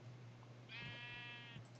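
A compressed sheep in a modded blocky video game gives a single clear, wavering bleat lasting under a second over a low steady hum.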